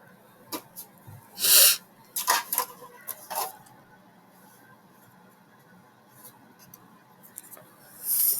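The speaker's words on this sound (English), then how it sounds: "sorry if you heard a bunch of shuffling. I'm trying to move my like fan closer." Scattered rustling and scraping bursts as a fan is shifted and handled nearby, with quiet gaps between the noisy moments.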